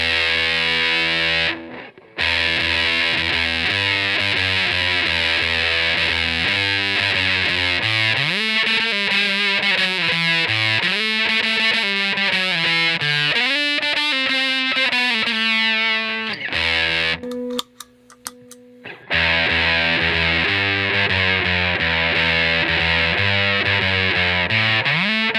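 Electric guitar through a Rite-O Fizz Fuzz Creator fuzz pedal with its fizz (bias) control in play: thick, buzzy distorted chords and sustained notes ringing loud and close, briefly dropping out twice before resuming.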